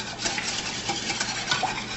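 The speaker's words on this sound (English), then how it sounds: "we're going to beat up 2 eggs really well" Two eggs are beaten briskly in a bowl for a Greek pastitsio, making a steady, close whisking and clicking rhythm with no talking.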